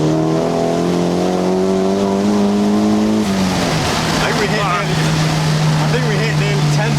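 A Golf R with a rear resonator delete and decat exhaust accelerates hard through the gears, its engine note droning loud and rising before a shift. People talk over the drone from inside the car.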